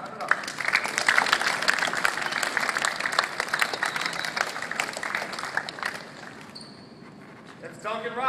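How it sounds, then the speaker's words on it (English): Audience applause for a young basketball player headed to Williams College, a steady dense patter of many hands that fades out after about six seconds into quieter room noise. "clap it up"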